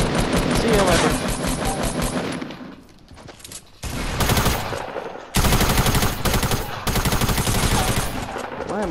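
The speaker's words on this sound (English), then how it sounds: "Someone else is shooting you!" Loud, dense automatic gunfire from a Fortnite match rattles in rapid bursts, easing briefly in the middle before resuming in long sustained volleys, with game sounds layered throughout.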